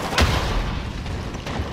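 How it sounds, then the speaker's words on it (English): A grenade blast in Call of Duty: Black Ops 4, a single low boom near the start that fades into a sustained rumbling tail, with gunfire-like crackle in the mix. "I throw a nade."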